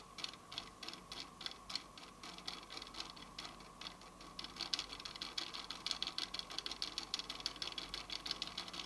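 A quartz clock movement sped up by adjustment and driven through its coil, a fast steady ticking, faint and close, growing slightly stronger and busier toward the end.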